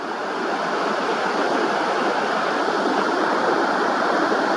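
Ocean waves breaking near shore where pelicans glide, heard as a loud, steady wash of surf that swells slightly and carries on unbroken, with no voices.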